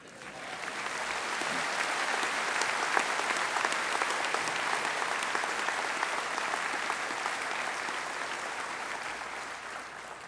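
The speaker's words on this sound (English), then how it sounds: "Let's have a round of applause for Al here." A large audience applauds steadily at a college commencement ceremony, a dense, continuous wash of clapping from many hands that holds at an even level throughout.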